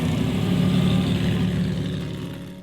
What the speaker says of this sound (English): This time of year you can really hear the roar of the engines